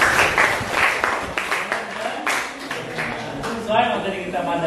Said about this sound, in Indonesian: Mantap, tepuk tangan untuk temannya.